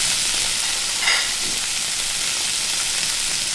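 Meat searing in a frying pan, pushed in and browning evenly, gives a steady close sizzle and hiss that runs unbroken throughout.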